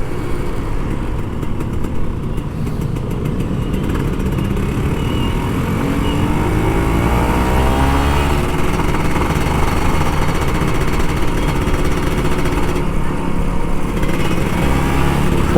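A Kawasaki Ninja RR 150 motorcycle engine runs loudly and continuously while riding, its two-stroke revving rising and falling in pitch over a rough, constant drone.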